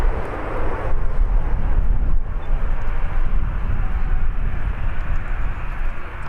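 An Airbus A380 at Birmingham airport, a loud, steady low engine roar with broadband rumble and wind buffeting that holds at the same level throughout.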